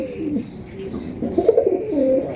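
Raj Golla pigeons cooing in a collection, a series of soft, low throaty coos that swell in the second half over light background noise, close by.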